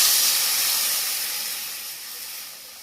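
Water poured into a hot pan of Bengali-style curry with turmeric and green chilli paste gives a loud, steady hiss that slowly fades over a few seconds.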